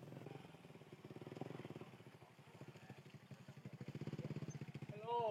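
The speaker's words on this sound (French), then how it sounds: "J'entends une moto qui arrive." A motorcycle engine putters steadily nearby as it approaches in Da Nang, Vietnam, its rhythmic low chugging swelling and fading, with a brief chirp near the end.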